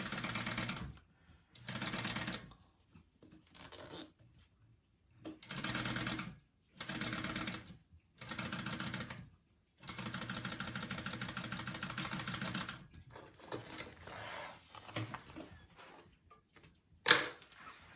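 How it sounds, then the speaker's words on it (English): A sewing machine top stitches a zipper seam flat along the seam allowance of a crossbody bag, running in short, even bursts of rapid stitching separated by pauses, then one longer continuous run, close and clear with no talking. "So I'm sewing on my seam allowance right now"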